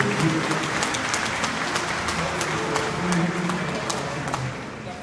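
Congregation applauding during a Sunday Lenten Mass, a steady wash of many hands clapping at fairly close range for the full stretch, softening slightly at the end, with faint voices underneath.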